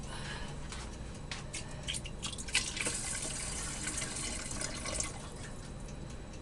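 Water poured into a pot of rice while cooking, a steady soft trickling and splashing that runs alone and moderately quiet throughout, with a few small drips and clinks.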